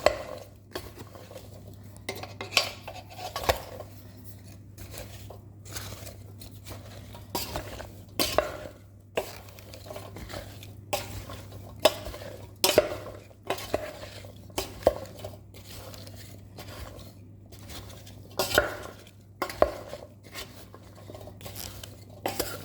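Mango achar ingredients being stirred in a bowl, a repeated rhythm of spoon scrapes and clinks against the dish, close and moderately loud with a low steady hum beneath.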